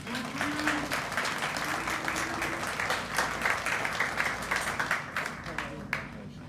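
A graduation audience for a culinary and warehouse program claps for a graduate, a steady crowd applause with a few sharper individual claps and faint voices and cheers mixed underneath, fading slightly at the end.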